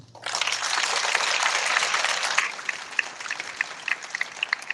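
Audience applause at a spring concert and awards ceremony, a dense burst of clapping that swells quickly, holds steady, then thins into scattered individual claps toward the end.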